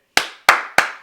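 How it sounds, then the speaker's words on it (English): Three sharp, loud hand claps from one person, evenly spaced about a third of a second apart, each ringing briefly before the next, with no talking. "I'm finna clap for that."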